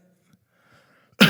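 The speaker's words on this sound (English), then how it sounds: "Sorry, I coughed into the microphone." A single sharp cough into a microphone at the very end, loud and close after near silence.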